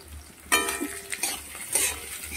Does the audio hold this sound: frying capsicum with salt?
yes